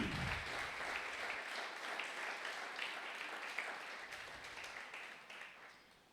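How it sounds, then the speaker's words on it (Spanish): Congregation in a church applauding steadily, a dense wash of many hands clapping that holds at an even level and slowly fades away toward the end. "Démosle un aplauso al Cordero Santo."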